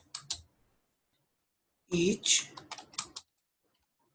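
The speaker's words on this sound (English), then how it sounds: "So we are just going to type them here." Typing on a computer keyboard, a short burst of close, crisp key clicks, then a pause, then a longer flurry of clicks, with a voice speaking briefly between them.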